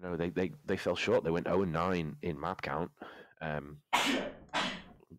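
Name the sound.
someone sneezing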